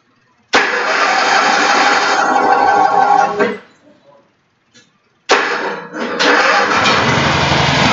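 An offroad tractor engine cranks and catches, running loud and close for about three seconds, cutting out, then firing up again and running steadily.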